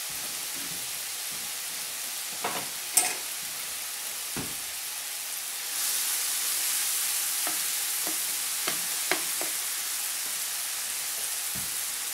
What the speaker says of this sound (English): we're going to put in our mushrooms and our onions, combine them in a skillet.